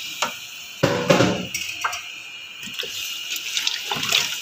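A glass of water poured into mutton masala cooking in ghee with bottle gourd, a close splashing gush and sizzle with a few clinks, no talking.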